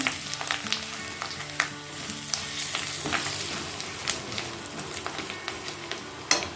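Kashmiri chili powder and turmeric frying in oil in a pan, a continuous soft sizzle with sharp crackles and spatters scattered throughout, no voices.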